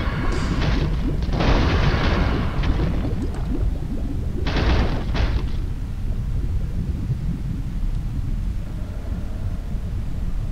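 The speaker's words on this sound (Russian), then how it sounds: "Ой, этот тоже сейчас взорвется." Explosions in the video game Angry Birds Star Wars 2 go off as two heavy booming bursts a few seconds apart over a constant rumbling game soundscape.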